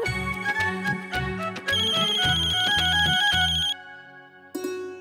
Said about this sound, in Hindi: अरे बाबूजी का फोन है।